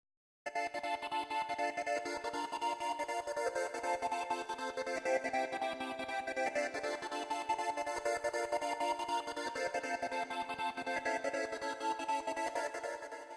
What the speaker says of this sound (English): I copied them to a track which runs through another arpeggiator